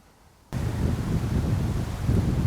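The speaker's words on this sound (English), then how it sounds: "It's early afternoon, super windy." Strong wind buffets the microphone outdoors in the bush near an alfalfa field on a hunting trip, starting suddenly and rumbling loudly and unevenly with gusty low roar, no voices.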